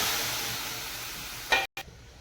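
Pumpkin cooking in a pan with ginger, garlic, coconut, turmeric and chili, giving a steady soft sizzle that ends in a brief clatter and a short cutoff.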